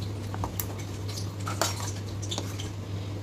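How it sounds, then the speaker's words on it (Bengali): Spoon stirring milk into a thick palm-fruit malpua batter in a bowl, soft wet scraping with scattered light metallic clinks of utensil against the bowl, close and quiet over a steady low hum, no speech. "এবার এর মধ্যে আমি কিছুটা পরিমাণ আর একটু অল্প দুধ মিশিয়ে এটাকে একটু পাতলা করে নেব।"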